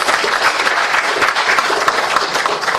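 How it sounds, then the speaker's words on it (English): Audience at an official launch event claps for the panelists, a dense, loud burst of steady applause from a crowd with no talk over it. "A better clap for our panelists."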